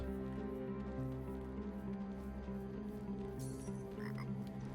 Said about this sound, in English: your party sees a small orange frog peering up at you, totally unafraid